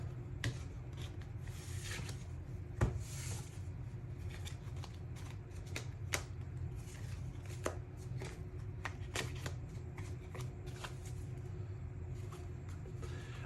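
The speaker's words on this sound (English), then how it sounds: "Give you a little insight into some of my shuffling techniques." Steady crisp rustling and riffling of playing cards being shuffled, with occasional sharper snaps and taps, close by against a low background hum.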